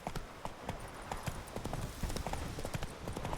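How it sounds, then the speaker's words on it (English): The horse Roach gallops in The Witcher 3, a steady rapid clip-clop of hooves held close and moderately loud throughout, with faint background sound and no clear speech. "That's it, Roach."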